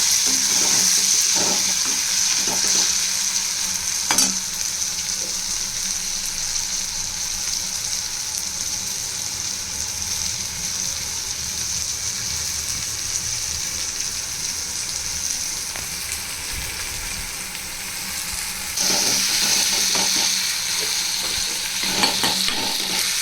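Tomatoes with salt frying in a pan for a South Indian fish curry, a steady loud hiss and sizzle throughout, with occasional scrapes and clinks of a stirring spoon.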